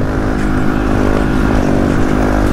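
Motorcycle ridden hard on a highway during wheelies at sunset in Mexico, a loud close, continuous engine roar with wind rush, steady throughout.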